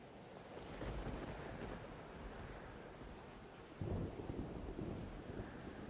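Thunderstorm in Life is Strange: Double Exposure, with steady heavy rain and low rolling thunder throughout, and a louder crack of thunder swelling in near the end.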